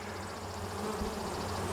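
Bees buzz steadily around a new permanent beehive box on a homestead, a close, continuous drone with overlapping wingbeats and no voices.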